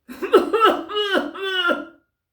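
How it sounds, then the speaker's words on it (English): A voice produces a short series of rough, harsh bursts, about four in a row, close and fairly loud, like coughing or throat sounds. "goes out the flats and the coughing starts"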